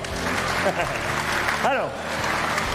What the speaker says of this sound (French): Félicitations à eux, on les applaudit très fort.